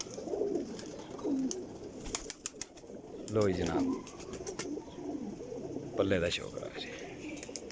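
Pigeons, including a cross-bred Teddy female, coo in soft repeated bursts close by, with someone talking over and between the calls.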